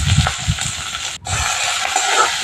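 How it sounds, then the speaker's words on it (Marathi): Onion and green chillies sizzle in hot oil in a pan, a loud, close, continuous frying hiss with a brief dropout partway through and no voices. "तेल गरम झालेलं आहे तेलामध्ये कांदा आणि मिरच्या टाकलेला आहे कांदा मिरची भाजायला पाहिजे"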